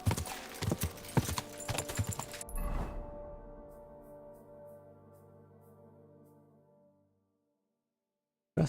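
Horse hooves clip-clop quickly and close by in Kingdom Come Deliverance II. The hoofbeats stop abruptly, a brief neigh follows, and the sound fades into a long tail before falling silent.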